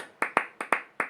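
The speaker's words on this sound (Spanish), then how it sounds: "están aplaudiendo" An audience claps in a few sparse, separate bursts, each sharp, close-sounding and quickly fading, with short gaps between them.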